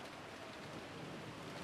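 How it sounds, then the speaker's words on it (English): Steady rain plays as a soothing background loop during a livestream break, a dense, even hiss of falling drops with no pauses or voices. "Oh, we get the soothing sound of rain for the break."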